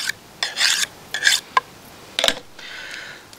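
A butcher's knife edge is honed in several quick rasping strokes, four or five short bursts with brief pauses between, close and clear during lamb shoulder butchery.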